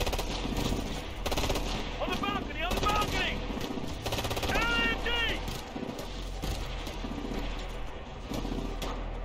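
A light machine gun fires in the Ghost Recon Future Soldier video game, with rapid, sustained automatic bursts that are steady and close, mixed with chirping ricochet-like tones and a low rumble, while people talk over it.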